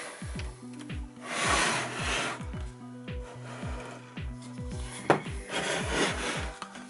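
A Festool TS 55 REBQ plunge saw is opened after its lock is loosened, giving close wooden rubbing and ratcheting mechanical clicks in a steady rhythm, with no talking.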